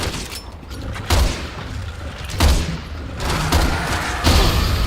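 Repeated heavy sniper gunshots in Resident Evil 6, a few loud booming cracks spaced about a second apart over a dense, noisy game background.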